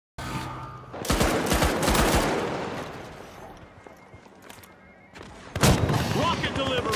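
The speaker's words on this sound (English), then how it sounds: "I sniped somebody with a rocket launcher" Rocket launcher blasts and gunfire ring out in the shooter game The Finals: a heavy burst of explosive booms and rapid shots, a quieter lull, then another sharp blast near the end, with voices mixed in.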